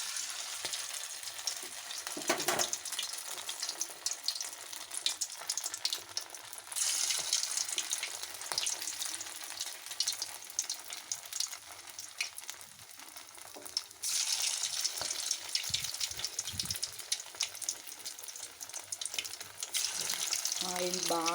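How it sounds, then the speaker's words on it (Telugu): Spoonfuls of batter dropped into hot oil fry like punugulu with a loud, dense, continuous sizzle and bubbling that surges as fresh batter goes in, alongside a few clinks, close-up throughout. "ఒక్కొక్క స్పూను పునుగుల్లాగా ఆయిల్ వేసేద్దాం. Oil already కాగాయి."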